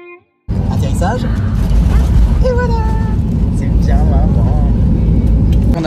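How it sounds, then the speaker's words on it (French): An airliner lands at Ibiza: a loud, steady broadband roar runs through the whole landing after a brief quiet start, with a few faint voices over it. "Atterrissage."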